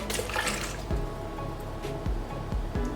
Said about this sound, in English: So I'm going to pour the water back in the jug